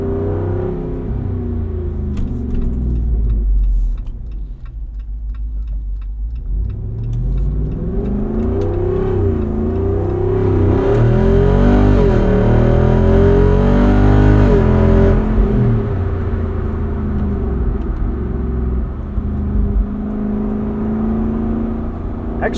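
A 2024 Jeep Wrangler Rubicon 392 Final Edition V8 revs hard on the move, its loud engine note rising and falling through gear changes and swelling to a roaring peak midway before settling to a steady drone, with no talk.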